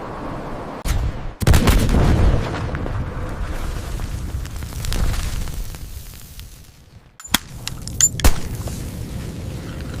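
A sniper rifle's gunshot booms in loud, heavy bursts with long rolling tails, followed by several sharper cracks toward the end over a dense, rumbling background.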